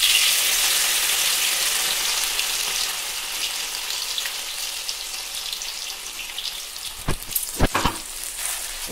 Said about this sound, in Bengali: এই পেস্টটা মিনিটখানে কষতে হবে।